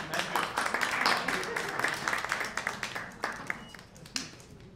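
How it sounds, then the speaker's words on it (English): Applause from an audience at a business investment forum, a dense patter of clapping that builds and then thins out over several seconds, with voices mixed in. "another big round of applause"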